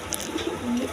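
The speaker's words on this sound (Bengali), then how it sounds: "দর্শকবৃন্দ দেখেন এখানে এক পেয়ার কবুতর" Pigeons in a farm loft where breeding pairs with eggs and chicks are kept, cooing softly in low murmuring bursts close by, with a longer steady coo near the end.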